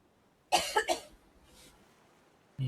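A man clears his throat in the video game Death Stranding, three quick, close rasping bursts against quiet room tone, followed by a faint breath and a brief low thump at the end.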